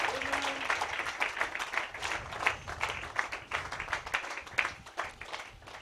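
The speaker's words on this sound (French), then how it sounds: "somebody can give to a Lord the clap of hand" Church congregation clapping their hands in praise, a dense, steady wash of many hands under a reverberant hall sound, with a brief low tone near the start.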